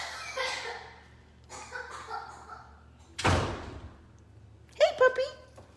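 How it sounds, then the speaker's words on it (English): A household door closes with one solid slam roughly midway through, a short thump between stretches of a voice talking and a dog's brief sounds near the end. "John, can you close your door, please?"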